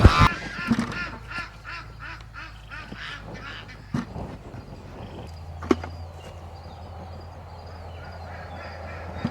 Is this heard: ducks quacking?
yes